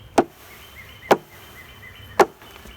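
A beekeeper smacks a package of bees down to knock them to the bottom: three sharp, hollow thuds at steady intervals, close and loud, with a faint buzz between them.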